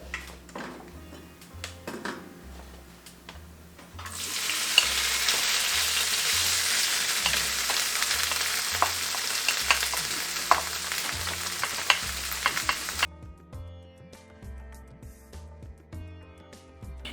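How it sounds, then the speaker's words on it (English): Peppers and onions sauteing in coconut oil in a frying pan: a loud, dense sizzle starts abruptly, holds steady for about nine seconds with small crackles, then cuts off, over a quiet, low rhythmic background. "I'm going to go ahead and saute my peppers and onions"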